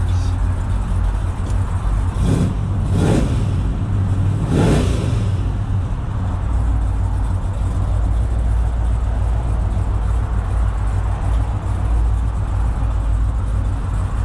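A 1972 Chevelle Convertible Custom drives around the block in Friday afternoon traffic, its engine rising in a few surges of revving early on, then settling into a steady low drone under continuous road noise.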